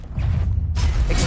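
Moving platform mechanism in the video game Hogwarts Legacy, a loud grinding, creaking mechanical rumble with a brief dip before it surges again, close and continuous.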